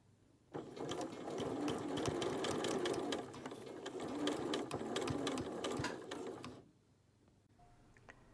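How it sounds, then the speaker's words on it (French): A domestic sewing machine stitches close to the seam to understitch the facing of a dress, a steady whirring, clattering run of several seconds, close and clear, stopping abruptly with quiet afterward. "fixer les valeurs de couture sur la parmenture en piquant à 2 mm de la couture précédente"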